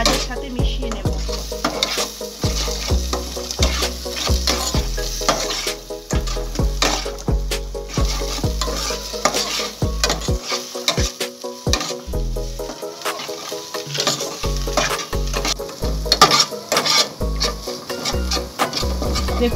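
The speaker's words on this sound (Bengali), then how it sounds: "দেখুন ডিমটা ভেজে নিয়েছি" Egg frying with onions in a pan for chowmein, a steady sizzle under repeated rhythmic spatula scrapes and knocks against the pan, close and fairly loud, with no talk.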